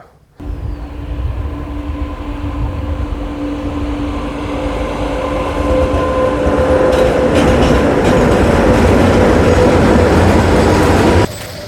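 A train rumbles steadily along the track, its rolling clatter building slightly louder over the stretch before cutting off.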